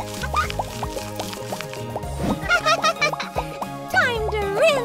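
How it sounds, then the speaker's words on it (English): Water splashes and drips while a Baby Alive doll's hair is rinsed, with short plops and trickles over bright, cheerful children's music. "Time to rinse."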